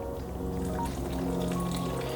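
Water at 194 degrees is poured into an AeroPress coffee maker, giving a short, steady, close-up trickle and gurgle of liquid filling the chamber.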